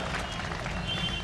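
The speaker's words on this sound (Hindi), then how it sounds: "थोड़ी सी 4-5 लोग तालियां बजा दें तो अच्छा लगेगा" An audience at a Hindi kavi sammelan poetry recital claps briefly, a close, even burst of applause that lasts just over a second.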